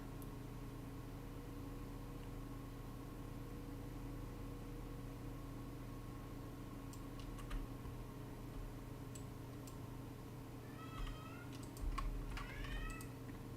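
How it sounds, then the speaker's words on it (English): A cat meows faintly in the background several times near the end, the thin cries rising above a steady electronic hum along with scattered soft key clicks. "don't worry about the dramatic little cat you hear in the background"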